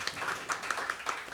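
Applause for guests of a Bronx music podcast, a small, thin smattering of a few people clapping, quiet and somewhat distant, with irregular sharp claps over a short burst.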